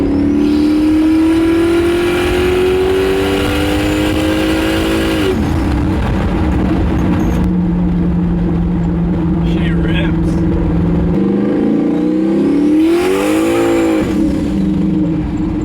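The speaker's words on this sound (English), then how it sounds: "I'm able to do wide open throttle pulls with an untuned truck" A turbocharged Chevrolet Silverado pickup engine pulls hard at wide open throttle, its loud droning pitch climbing, shifting and climbing again across a long sustained run, heard close from inside the truck.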